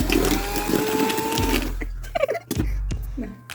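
Electric hand mixer whirring loudly as caramelized sugar syrup is beaten into cake batter, a steady motor drone for about a second and a half, then quieter with clicks and brief taps.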